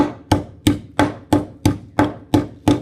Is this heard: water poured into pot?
no